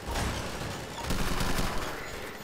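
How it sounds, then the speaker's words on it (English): Rapid bursts of gunfire from a Combine-style energy rifle in Garry's Mod, shot at NPC targets, a dense, loud, continuous volley with no voices over it. "it's basically one of those combine style guns"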